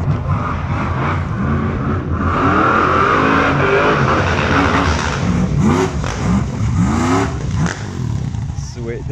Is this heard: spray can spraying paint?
no